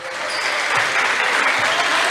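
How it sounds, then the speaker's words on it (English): A crowd of fans claps steadily at a high school boys basketball game, a dense, loud wash of applause throughout, with faint voices mixed in. "the Pioneers right now, they're getting loud as they're just clapping"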